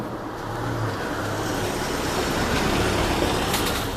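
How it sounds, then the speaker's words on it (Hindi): A village garbage truck in rural Japan rolls past, a steady low engine rumble and road noise rising gently and holding, moderately near with no talk. "ये जा रही है गाँव की कचरे वाली गाड़ी"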